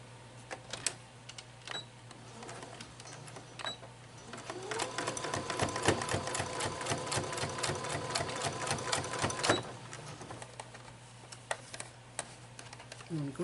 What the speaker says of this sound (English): You want to stitch across that edge